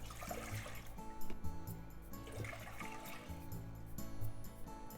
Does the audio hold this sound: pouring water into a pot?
yes